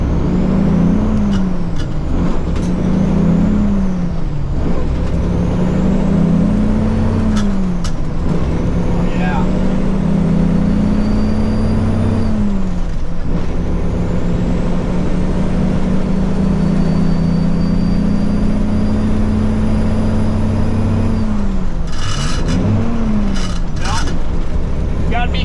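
A truck pulls away from a complete stop on a truck route, its engine rising and falling through repeated gear changes, loud and close, with a brief hiss near the end.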